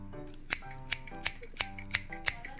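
Scissors snip through folded paper for a paper craft flower, giving six crisp, evenly spaced cuts in a steady rhythm up close, with no talking.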